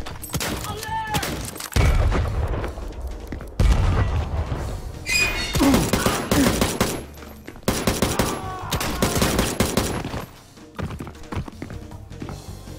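Frag grenade blasts and gunfire in the shooter game XIII, with loud booming thuds and rattling shots in a dense, chaotic mix and a voice faintly underneath.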